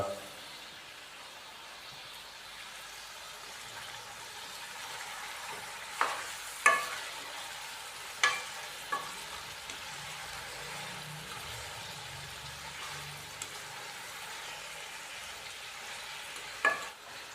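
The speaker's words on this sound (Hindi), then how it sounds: "अदरक लहसुन के पेस्ट के साथ ही जब हम चिकन की भुनाई करेंगे" Chicken fries in ginger garlic paste in a pan with a low, continuous sizzle, broken by a few sharp knocks of a spoon or spatula stirring the meat.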